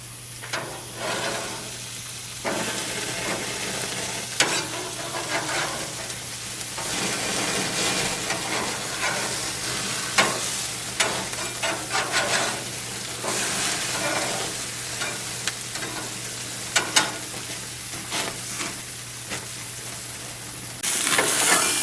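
Hamburger patties of locally raised beef sizzle steadily on a grill, a loud continuous frying hiss with occasional sharper pops and crackles throughout, no voices.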